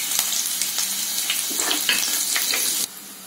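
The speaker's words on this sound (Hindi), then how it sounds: "अब हम इसमें हरी मिर्च डाल देंगे।" Green chillies sizzle in hot oil with whole spices for a dhaba-style village mutton curry, a steady close frying hiss with a few sharp crackles before it drops off suddenly near the end.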